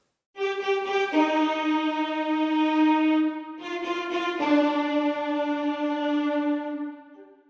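A sampled second violin section bows strong accented sustained notes from Beethoven's Symphony No. 5 in two phrases, bright and full-bodied, fading at the end.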